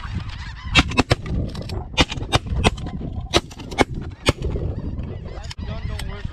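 Snow goose hunt in a field: sharp shotgun blasts crack out in a quick irregular volley, several shots close together, amid honking geese overhead and faint voices.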